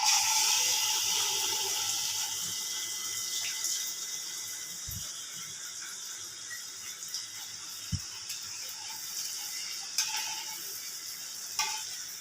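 Malpua batter fries in hot oil with a steady, hissing sizzle that starts loudest and then settles. A few sharp clicks of a utensil cut through it, and no one speaks.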